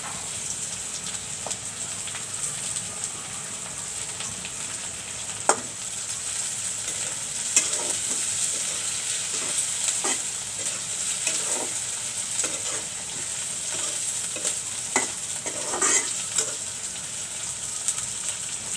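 Dried fish cooking in a frying pan with a steady sizzle, while a utensil scrapes and stirs in scattered clinks and knocks throughout. No one speaks.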